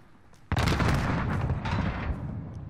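A sudden burst of gunfire erupts in a battle royale video game, sharp and loud, then keeps rattling as rapid shots over about two seconds.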